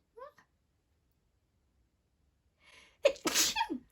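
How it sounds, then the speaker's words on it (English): A brief vocal sound, a few seconds of near silence, then one sharp, close sneeze that trails off at the end. "I'm gonna sneeze."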